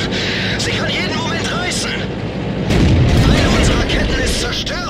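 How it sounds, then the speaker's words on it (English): Tier 2 artillery shells bursting in World of Tanks, a dense run of booming impacts and rumbling blasts that swells louder about halfway through, with a voice talking over the battle noise. "So the tier 2 artillery are shooting at me"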